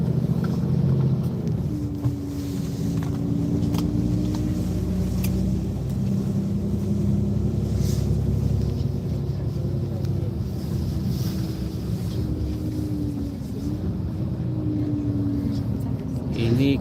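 Car driving along a road in Reykjavik, Iceland, a continuous low engine and tyre rumble heard from inside the cabin, with a gently rising and falling engine tone.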